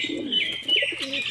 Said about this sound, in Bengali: এবার তোমাদেরকে আমাদের বাড়ির তল গরম পায়রাটা দেখাবো